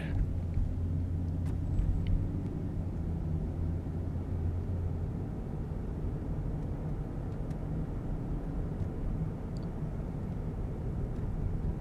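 A car rolls through a neighborhood of Norwich, Connecticut, near a roundabout, heard from inside as a steady low engine and road rumble with a few faint clicks, no voices.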